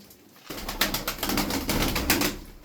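A pigeon coos in a short series of soft, throaty pulses, close and clear, with no talk over it.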